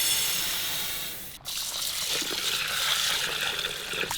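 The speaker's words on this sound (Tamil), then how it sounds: "ஒரு கிலோ பாசுமதி அரிசியை 2 டைம் அலசி ஊற வச்சுக்கலாம்." Basmati rice is rinsed in water, giving a steady close trickling and sloshing that dips briefly and then continues with soft splashes.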